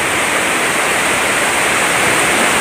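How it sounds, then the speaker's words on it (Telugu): Forceful floodwater rushes during heavy rain in Malakpet, a loud, constant broadband roar close by with no pauses and no voices. "ఇక్కడ వాటర్లో దిగితే కొట్టుకుపోతాం ఈ వాటర్లో అంత ఫోర్స్ ఉంటుంది"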